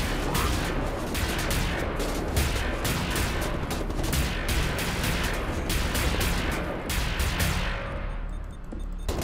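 Rapid gunfire in Wolfenstein: a sustained burst of loud, closely spaced shots rattling almost without pause for several seconds, close and dense.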